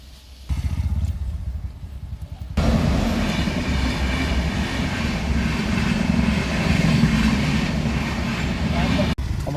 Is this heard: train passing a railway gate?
yes